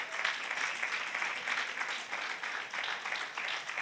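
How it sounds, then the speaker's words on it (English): A church congregation claps hands in praise, a fairly soft but continuous patter of many clapping hands with no voices. "Let's clap our hand and give God a praise for that."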